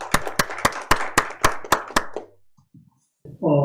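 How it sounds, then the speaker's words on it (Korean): Eight sharp, evenly spaced hand claps ring out in a slow steady rhythm, then fade to near silence before a brief voice enters at the end. "큰 박수로 맞아주시기 바랍니다"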